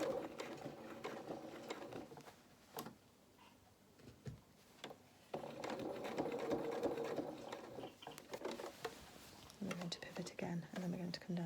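Sewing machine stitching along a dungarees strap, close bursts of rapid mechanical whirring that stop and start, with a quiet voice talking over the pauses.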